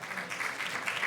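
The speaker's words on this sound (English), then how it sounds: "Another round of applause, please, to Mzee Roberto as he sits down." A conference audience at an energy-sector side event applauds softly and briefly, a faint, even wash of clapping heard from a distance.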